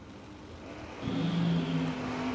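A Camaro drag racing car accelerates on a drag strip, its engine note jumping louder about a second in and holding a steady, strong drone with a whining overtone, heard fairly near and alone.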